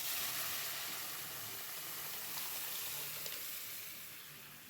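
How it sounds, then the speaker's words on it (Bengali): Ginger fries in hot oil with dry chilli and bay leaf, giving a soft, continuous sizzle that fades slightly toward the end, alone with no talk. "আদাটা দিয়ে আমি সামান্য একটু ভেজে নিলাম"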